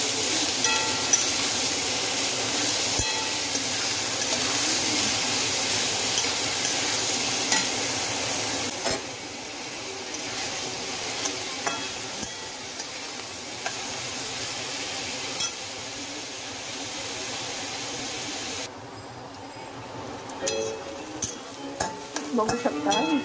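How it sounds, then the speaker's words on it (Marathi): Chopped onions fry and sizzle in a pan for paneer bhurji while a spoon stirs them now and then, a steady close hiss with small scraping clinks, no talking. "कांदा आपला व्यवस्थित फ्राय करून घेऊया"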